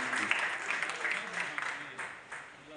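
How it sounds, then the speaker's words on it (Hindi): Audience applause at a public event, a dense sustained clapping from a crowd lasting throughout and fading slightly at the end. "एक बार नौजवान के लिए जोरदार ताली आपको बजाएं।"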